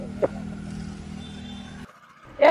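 A car being turned around out of a parking spot: a low, steady engine hum runs for a couple of seconds, then cuts off before a brief louder noise at the end.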